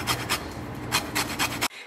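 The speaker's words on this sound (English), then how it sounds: "and then I'm going to zest in the lemon" Lemon zested over a bowl of oat bar batter, with several quick rasping scrapes in uneven strokes, close and fairly loud, ending abruptly.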